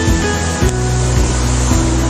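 Broadband rushing water of a river at Nerlamut village in Minahasa, steady and close, with no voices over it.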